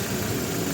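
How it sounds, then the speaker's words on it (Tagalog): A Toyota Innova engine idles at close range, a steady, dense low rumble with even vibration and no voices over it. "pwede ko nang i-switch off itong makina"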